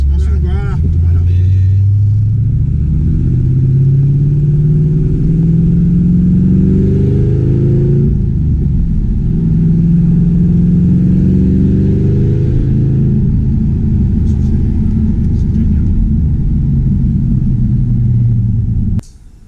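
A 2010 Ford Mustang V8 engine revs and pulls while driving, a loud low rumble rising in pitch through the gears, heard from inside the car under occasional talk.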